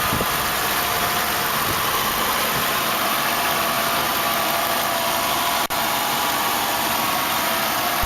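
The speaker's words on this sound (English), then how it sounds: "It's a 4-liter 32-valve V8." A 1995 Lexus LS400 with a 4-liter 32-valve V8 idles after start-up, producing a smooth, even, unbroken hum with a single soft click partway through and no speech.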